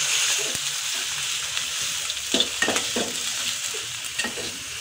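Ground spice paste fries in a pan for a Bengali chicken curry, a close, continuous sizzle broken by repeated scraping stirs and light clinks of the spoon against the pan.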